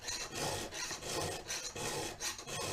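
Rhythmic rasping of a hand file sharpening the teeth of a 200T chainsaw chain, steady back-and-forth strokes repeating about every half second, close and fairly loud with no talking.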